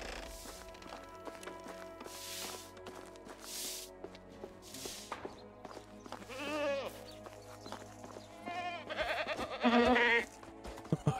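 Several sheep and goats bleat in a busy Medieval Dynasty game soundscape, calls rising and overlapping, with hoof-like clopping and steady background tones.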